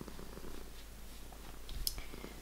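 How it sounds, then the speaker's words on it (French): A small cat purrs close up with soft, even rumbling pulses and a faint rustle near the end, no talking. "Regardons ce petit chat."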